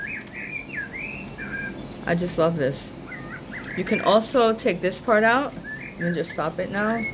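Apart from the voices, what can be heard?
birds chirping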